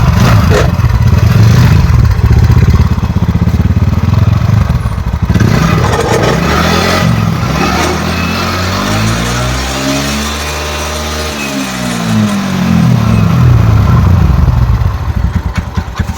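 A TVS Ntorq 125 BS4 scooter engine, noted for smoking too much, is kick-started and then revved loudly at close range, with a steady rumble that dips and swells through several throttle blips.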